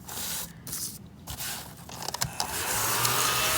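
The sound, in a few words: small mouse-shaped desk vacuum running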